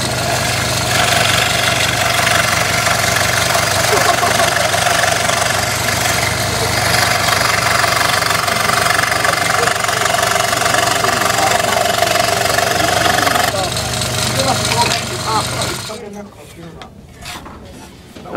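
A wood lathe turns hardwood for a jewellery box, a loud steady motor hum with a rough scraping texture from the tool on the spinning wood, continuing for most of the stretch before winding down into scattered clatter near the end.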